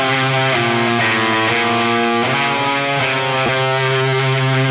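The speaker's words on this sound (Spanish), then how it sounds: "este es mi compresor y suena así con el compresor." Distorted electric guitar solo run through an LA-3A compressor, a loud, dense sustained lead line with bends and held notes playing continuously and alone.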